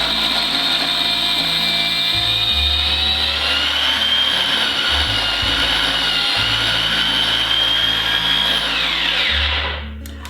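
A food processor blitzes garlic with a tablespoon of oil in one loud, steady, high-pitched whirring run that cuts off at the end, with no talking.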